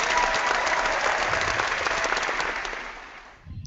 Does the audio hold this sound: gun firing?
no